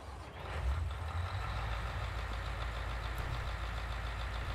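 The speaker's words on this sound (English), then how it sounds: "listen to the startup on this, it sounds beautiful" Huge engine of a forage harvester in Farming Simulator 19 cranking and settling into a steady, heavy rumble, a continuous loud drone throughout with no talking.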